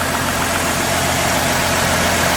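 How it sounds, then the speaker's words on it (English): A 2016 Ford F-150 with a 3.5 V6 runs quietly at idle, giving a smooth, continuous low hum with faint vibration and no voices. "But that engine is quiet."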